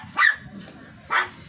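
A dog gives two sharp, close barks about a second apart, with quiet household background between them.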